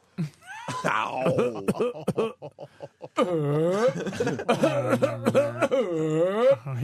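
A man's raspy, wheezing imitation of a cough, broken into rough bursts with chuckling and talk mixed in.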